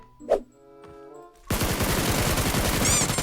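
A couple of sharp isolated shots, then a sustained rapid burst of automatic gunfire in PUBG Lite, loud and close, with no voices.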